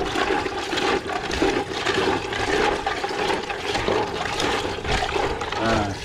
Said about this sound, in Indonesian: Pertama-tama kita rendam pakai air.